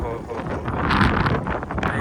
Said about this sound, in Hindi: बहुत ठंडी हवाएं चल रही हैं